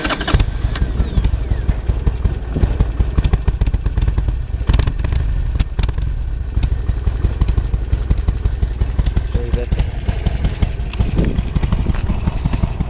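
A 2007 Harley-Davidson Sportster 1200 fires up and runs, its V-twin settling into a loud, lumpy idle with mechanical clatter, close to the microphone and without talk.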